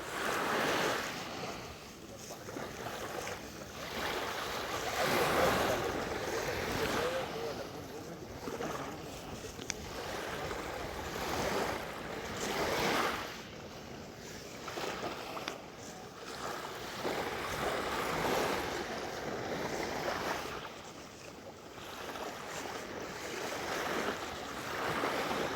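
Sea waves on open water wash and surge in a steady broadband roar with wind buffeting the microphone, swelling and easing in slow cycles for the whole stretch, with no one speaking.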